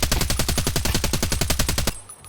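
SA58 rifle in Escape from Tarkov fired from a crouch in one sustained full-auto burst of about twenty rapid, evenly spaced loud shots, close and alone, ending abruptly into a brief quiet tail.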